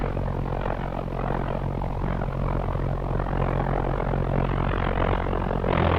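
Pulse jet engine of a V1 flying bomb (FZG 76) running at part load on its launch ramp, a loud, steady, dense roar with a low throbbing buzz that holds constant for the whole stretch, close and unbroken.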